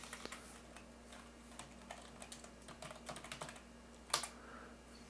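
Computer keys clack in quick, uneven bursts as login credentials are typed, close and fairly quiet, ending with a sharper final keystroke.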